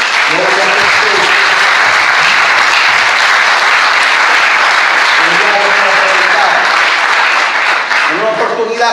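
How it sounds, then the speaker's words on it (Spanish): A church congregation applauds loudly and steadily throughout, a dense wash of clapping with a preacher's voice and crowd voices showing through at moments. "Denle un aplauso al Señor"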